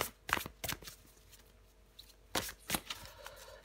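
Tarot cards being shuffled and drawn up close, two quiet clusters of crisp riffling and flicking card sounds separated by a near-silent gap.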